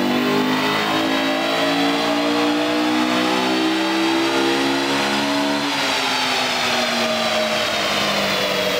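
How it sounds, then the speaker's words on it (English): A Honda VTEC engine revs hard on a dyno, a loud sustained climbing roar whose pitch rises steadily, drops briefly near the end as it shifts, then climbs again, with no talk over it. "Time for another run. And listen to that VTEC."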